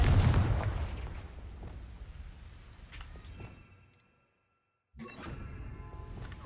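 Fire spell blast cast in the video game Hogwarts Legacy, a loud booming burst that decays into rumble, then brief silence before another burst of game effects begins.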